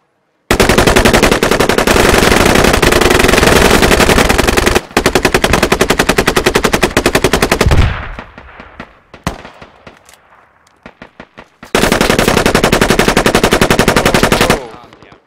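Sustained bursts of light machine gun fire in the tactical shooter game Squad, loud and close, a long rapid stream broken by a brief gap, then scattered sparse shots before another long burst.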